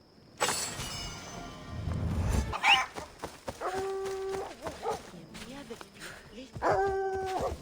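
A dog barks and whimpers in the video game Assassin's Creed Odyssey, giving short yips and whines in scattered bursts amid game effects and spoken dialogue.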